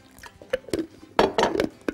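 A little water is poured into a blender jug holding banana, mango, sugar, cream and condensed milk, heard as soft irregular splashes and drips, close but fairly quiet, with no talk.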